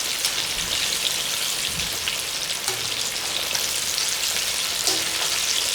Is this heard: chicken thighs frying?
yes